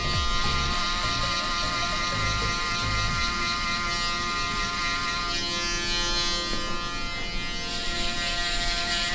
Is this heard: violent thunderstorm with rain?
no